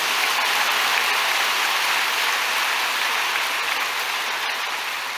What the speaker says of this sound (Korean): 박수 쳤으니